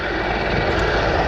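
Mi-24 military helicopter flying at the Duxford Battle of Britain airshow 2022, a steady, loud, dense engine and rotor roar filling the clip without a break.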